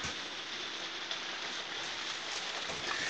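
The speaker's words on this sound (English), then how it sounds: "If you can hear the little clicks around there," Rain clicks on the roof of a 2023 Apex Remote 16R SUV-towable travel trailer, heard from inside as a steady, soft, dense patter with no talking.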